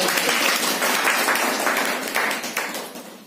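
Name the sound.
audience applause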